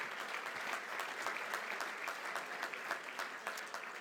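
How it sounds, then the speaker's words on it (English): Convention audience applauding steadily for AHEPA at its 2021 Supreme Convention, a dense, even roar of many hands clapping throughout, moderately distant and unbroken. "A round of applause for AHEPA"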